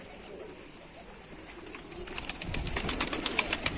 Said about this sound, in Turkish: Bak kalktı yine. Kuş kalktı gidiyor.